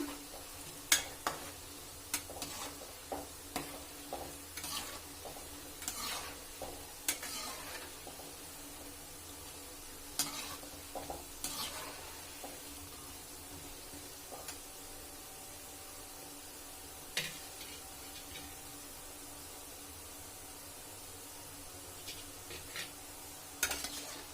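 Jamun dough balls fry gently in hot oil, a soft, quiet sizzle broken by occasional sharp utensil clinks and taps.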